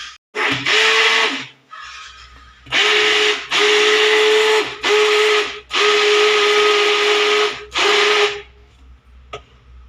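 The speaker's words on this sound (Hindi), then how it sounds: "तो उसको ब्लेंडर से इसको चलाती हूँ।" A blender churns cream with cold water into butter in several loud bursts, starting and stopping repeatedly with a steady high whine during each run.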